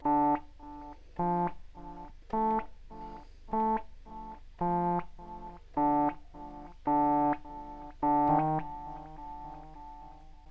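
Delay effect on a Modal Electronics Skulpt synthesizer: short, bright synth chords play in a steady rhythm, each followed by fading echoed repeats that blur into the next hit, and no voice is heard.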